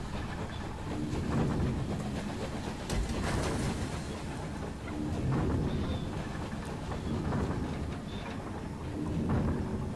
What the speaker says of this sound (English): I'm on a train.